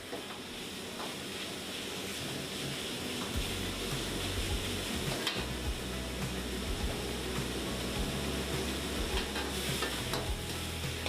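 Marinated beef sizzles steadily on a Korean barbecue grill, a constant crackling hiss with occasional louder pops and scraping stirs, fairly quiet and continuous throughout.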